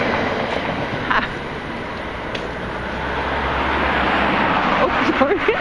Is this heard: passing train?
yes